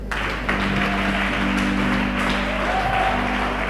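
Congregation at a church service applauding and cheering in praise, a steady dense wash of clapping with a low hum underneath and no clear speech.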